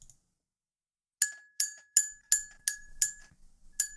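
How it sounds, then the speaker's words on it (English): Bright metallic bell rings sound in a rapid series of about seven sharp strikes, each ringing briefly before the next, after a quiet pause. They stand for alarm bells in a tabletop fantasy game session. "you can kind of hear certain alarm bells going"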